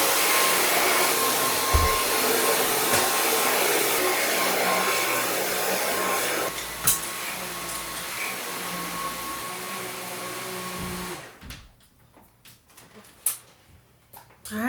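A household vacuum cleaner runs with a loud, steady whooshing roar for several seconds, drops in level partway through, then cuts off and leaves a few quiet knocks and shuffles behind.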